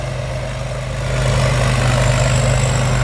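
A modified rice combine harvester with a loud aftermarket exhaust idles close by, a heavy low diesel rumble that swells slightly and holds steady and loud.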